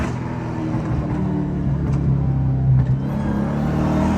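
A catless Dodge Hellcat accelerating onto a freeway, giving a steady, loud, low engine rumble and drone from inside the car, with a slight rise in pitch as it pulls.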